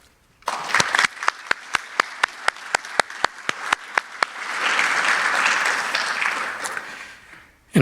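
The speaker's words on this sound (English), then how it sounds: "Grads, how about a round of applause for these two amazing groups of people" Audience applause at a graduation ceremony for the Class of 2022 begins with distinct sharp claps that swell into a dense, sustained round of clapping before cutting off.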